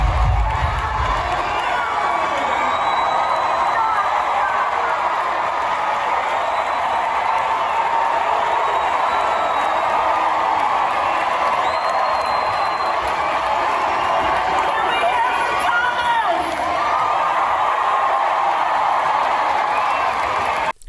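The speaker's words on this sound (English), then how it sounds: "just so you get a sense of the crowd in Greenville, North Carolina for Vice President Harris" A large crowd at a Vice President Harris rally in Greenville, North Carolina cheers and shouts continuously with scattered applause, a dense, sustained roar from many voices.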